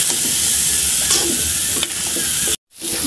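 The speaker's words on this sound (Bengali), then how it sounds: "সুন্দর করে নাড়াচাড়া করে চাপা দিয়ে ঢাকা দিয়ে দেবো।" Food frying in a pan with salt added gives a loud, dense sizzle, with a few stirring scrapes, then a brief cutout before the hiss resumes.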